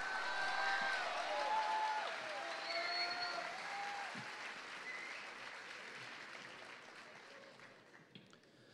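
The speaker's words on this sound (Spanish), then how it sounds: "Vamos, vamos, con fuerza ese aplauso" An audience at a school graduation ceremony for eighth-grade students bursts into sustained applause with a few faint whistles and cheers, the clapping loud at first and then gradually thinning and fading away.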